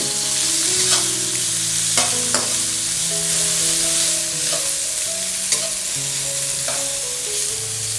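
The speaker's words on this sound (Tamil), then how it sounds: "காஞ்ச மிளகாவும் இஞ்சியும் ஒன்றா போட்டுருங்க. ஒன்றா போட்டு கொஞ்ச நேரம் ஃப்ரை பண்ணுங்கள்." Dried red chillies and ginger fry together in a pan for pudina thogayal: a continuous loud sizzle with periodic sharp stirring scrapes, over a faint melodic tonal background.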